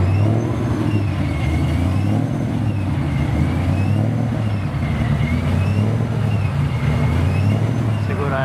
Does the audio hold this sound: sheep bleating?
no